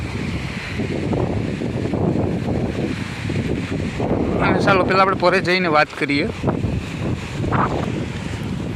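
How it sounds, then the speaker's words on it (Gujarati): Strong outdoor wind roars steadily across the microphone throughout, a constant rushing noise with a person talking over it for part of the time. "તો પવનનો તમને વધારે અવાજ આવતો હશે."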